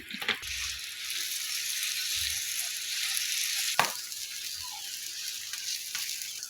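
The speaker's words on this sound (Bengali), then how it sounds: "এখন আরেক পিঠ উল্টা দিব সেকা পরোটা বানাবো তো চাই তেল দিয়ে দিলাম" A paratha fries in oil on a pan with a continuous bright sizzle, a couple of soft low knocks near the start and a sharp scrape midway, no talk.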